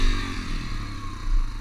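Trail bike motorcycle engine revving hard during a launch, a loud, steady mid-pitched roar with a slight swell near the end.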